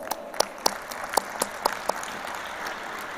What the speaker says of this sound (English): Kindly give clapping for them.